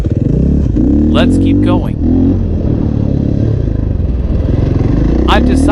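A KTM enduro motorcycle rides off-road, its engine loud and close, revving up and down in repeated surges with rough clattering between throttle bursts; a rider speaks briefly over the engine.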